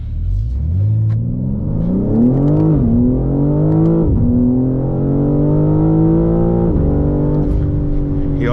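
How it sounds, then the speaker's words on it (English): A BMW G80 M3 accelerating, heard from inside, gives a deep, loud exhaust drone that climbs steadily in pitch through several gear shifts, each marked by a brief dip. "sounds like you got an exhaust"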